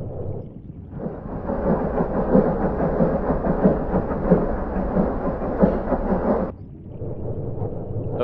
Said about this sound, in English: At this point, this is the sound of a destroyer.